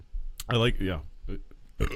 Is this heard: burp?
yes